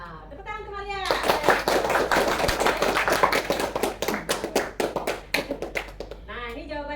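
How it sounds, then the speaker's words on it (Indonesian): A classroom of students breaks into sustained applause, dense overlapping hand claps filling several seconds before tapering off, with children's voices and a teacher talking just before and after. "Tepuk tangan ke Maria."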